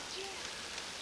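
Steady rain falls outdoors around the Russell Pond area, a continuous broadband hiss of drops filling the short moment with no pauses, fairly even and moderate in level.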